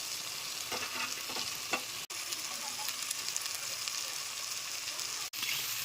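Boiled, hand-mashed potatoes sautéing with spice masala in a pan give off a continuous moderate sizzle, with light stirring taps early on and two brief dropouts in the sound.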